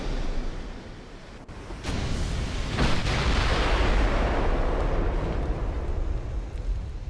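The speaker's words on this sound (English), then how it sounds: "Looks like some of my secondary guns are firing on his destroyers now." Secondary naval guns of a warship firing at destroyers in the naval battle game Ultimate Admiral: Dreadnoughts: a sustained, roaring barrage with a couple of sharper reports standing out, dense and loud throughout.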